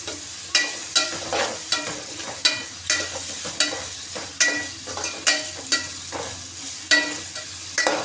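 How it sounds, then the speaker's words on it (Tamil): Food being sautéed and stirred in a pan in a home kitchen, with a steady sizzle broken by regular scraping stir strokes roughly every half second, close and fairly loud, with no talking. "நல்லா வதக்கிட்டு நல்லா வதக்கணும்"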